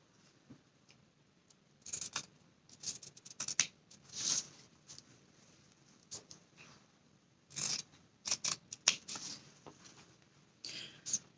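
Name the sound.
scissors cutting two layers of fabric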